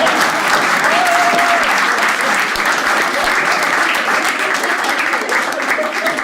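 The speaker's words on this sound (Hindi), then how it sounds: "आपको लगे रिलेटेबल, ताली बजा देना" A stand-up comedy audience at a Hindi-language show applauds with dense, steady clapping that stays loud and even for the whole stretch, with no speech over it.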